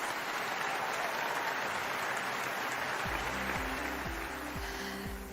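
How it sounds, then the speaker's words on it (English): An audience applauds at an awards ceremony, a dense wash of clapping that carries on steadily at moderate distance, with a faint musical tone entering partway through. "Let's give him a round of applause, please."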